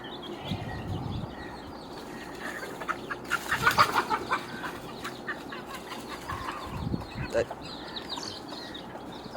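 Farmyard hens and two roosters clucking and flapping around a coop, with scattered clucks and a flurry of louder squawks and wing beats near the middle, fairly close but modest in level.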